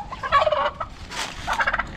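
Turkeys gobble in quick, warbling bursts, two loud close calls separated by a brief pause.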